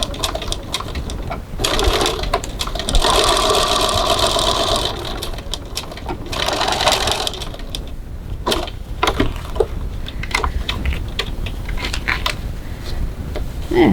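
A sewing machine stitches a leather-style wallet with back tacking at each end, giving bursts of fast mechanical whirring with short pauses, stops and restarts, close by and fairly loud.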